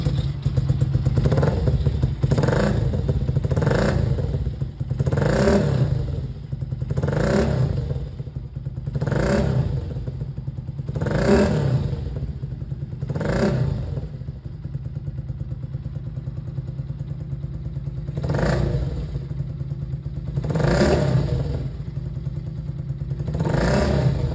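A Daytona GP1R 250 motorcycle with a four-valve engine is revved repeatedly on the spot, each rise and fall in engine speed coming in regular pulses over a steady idle, loud and close, with no talking.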